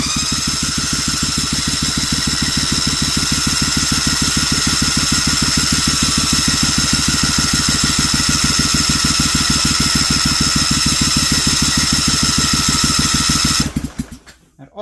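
A Vanguard 16HP small engine cranks steadily with the choke pulled, a loud, fast, even chugging that runs for about fourteen seconds and then cuts off abruptly without catching.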